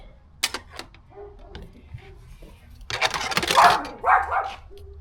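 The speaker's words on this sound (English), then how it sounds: "Sorry for the dog barking." A dog barks a few times in the distance, followed by a louder burst of clattering and sharp, scraping noises nearby.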